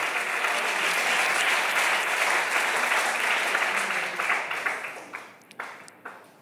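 Applause from the audience at an Italian stand-up comedy show, a dense continuous wash of clapping that holds steady and then tapers into a few isolated claps at the end.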